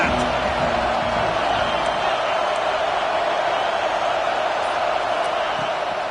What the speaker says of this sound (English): They challenge this crowd to bring the energy